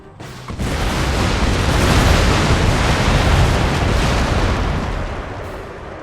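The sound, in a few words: rocket barrage firing in Empire: Total War video game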